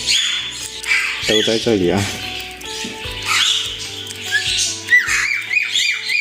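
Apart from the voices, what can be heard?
free-range mynah birds calling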